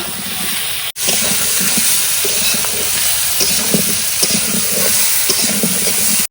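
Potatoes frying in a pan with green chilli, ginger, salt and turmeric, stirred steadily: a loud, continuous sizzle with scraping stir strokes throughout and one brief break near the start, no talking.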